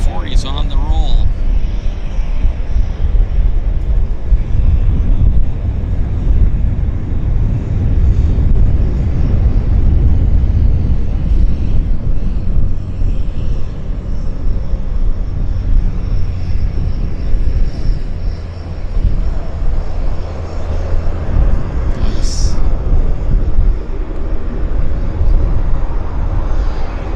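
A Saab 340 turboprop begins its takeoff roll at Vancouver airport, a loud sustained low engine rumble and propeller drone, with a voice speaking over it.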